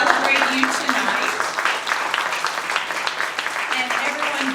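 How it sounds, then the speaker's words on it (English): Audience applause for the Alliance poets at a poetry reading in a Barnes & Noble bookstore, a steady, dense crowd clapping that carries on without a break from start to finish. "everyone joins me in a round of applause for our Poets for Positive Change"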